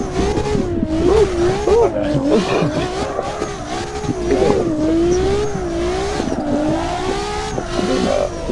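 A Nissan R35 engine revving hard in a racing video game, close and loud, its pitch rising and falling through gear changes with some tire squeal and brief talk over it.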